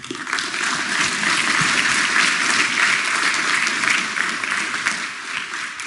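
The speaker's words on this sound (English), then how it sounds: "So if we could give them a round of applause as well." An audience at a tech marketing meetup gives a round of applause, a full, even roar of many hands clapping that holds steady for several seconds and then begins to taper off.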